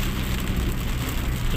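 Rain drums steadily on a moving car while driving on a wet day, a dense close patter mixed with road and engine rumble, continuous and fairly loud with no talking.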